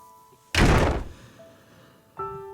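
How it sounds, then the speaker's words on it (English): A door shuts firmly with one loud, solid thunk close by, followed by a brief fading rattle and then a quieter second knock or settle as it latches. "disappearing into her bedroom and shutting the door firmly behind her"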